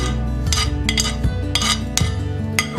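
Onion being mixed into minced meat and lentils in a bowl: loud, close clinks and scrapes of a utensil against the bowl, repeating at a steady rhythm over a low hum.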